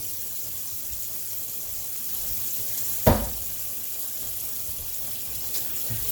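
Oranges are rinsed under a running tap, a steady soft hiss of flowing water with one brief splash or knock partway through.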